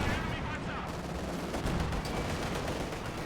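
A light artillery barrage in the Company of Heroes strategy game rumbles as dense, continuous battle noise, overlapping thuds and crackling explosions under someone commentator's voice.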